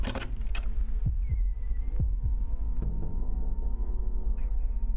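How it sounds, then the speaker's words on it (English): A throbbing heartbeat warning cue from the horror game Fear and Hunger 2, with low, close thumps in a loose repeating pattern over a steady hum and a few sharper clicks, with no talk. "Whenever you hear that heartbeat go off, it's bad things are coming."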